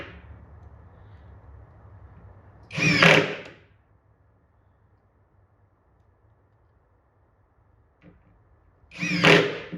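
A power drill drives screws into an arcade cabinet during restoration bodywork, with two short whirring bursts a few seconds apart, near and loud against a quiet room.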